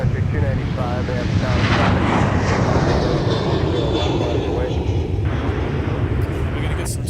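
Airplane engine roar during takeoff on a runway at MSP airport, a loud continuous broadband rumble that holds steady throughout, with voices talking over it.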